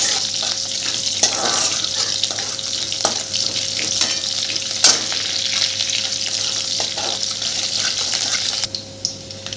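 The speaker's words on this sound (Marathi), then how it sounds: "आणि मिरची छान फ्राय होऊ द्यायची यामध्ये" Cut green chillies frying in hot oil in a pan, a steady close sizzle with occasional stirring scrapes and clinks that eases off near the end.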